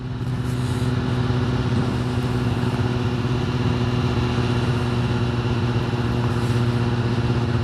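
A 2021 Kawasaki ZX-10R four-cylinder sport motorcycle engine runs at a steady, loud, close drone with a smooth even tone and no clear revving changes.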